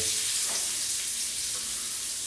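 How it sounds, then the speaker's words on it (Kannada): Onions frying in a pan for Mangalore-style egg rice, making a short, even, close sizzle with a little stirring and no talk. "ಈಗ ನಾನು ಈರುಳ್ಳಿ ಹಾಕ್ತಿದ್ದೇನೆ"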